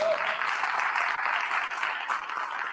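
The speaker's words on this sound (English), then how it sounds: "So give FNB a round of applause for continuing with this" Workshop audience applauds steadily in a hall, a moderately loud wash of clapping that holds without a break.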